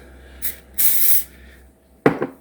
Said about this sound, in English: put the spray on there so it'll come out a little bit easier